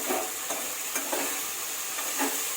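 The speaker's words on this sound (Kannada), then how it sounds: "ಟೊಮೆಟೊಸ್ ಚೆನ್ನಾಗಿ ಫ್ರೈ ಆಗಬೇಕು." Tomatoes for mushroom biryani sizzle in a pan, with steady frying hiss broken by several scraping stirs at roughly half-second intervals, no talk.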